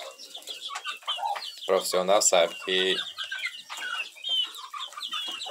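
Clucking from Galinha Sertaneja Balão chickens, a few close bursts of hen calls heard under and between a man's speech.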